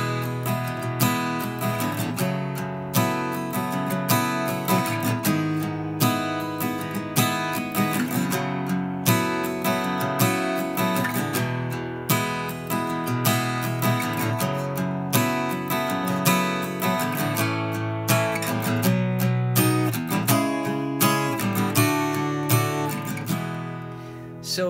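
Guitar plays the verse chords of a song in a steady strummed pattern, full and continuous, with no talking over it.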